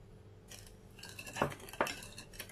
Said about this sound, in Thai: คนให้น้ำตาลละลายค่ะ